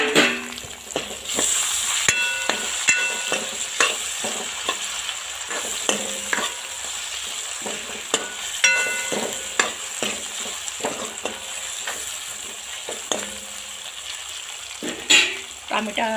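Onion, ginger and garlic frying in a pan for dal tadka, a continuous close sizzle broken by frequent spoon scrapes and clinks against the pan, with occasional light background noise.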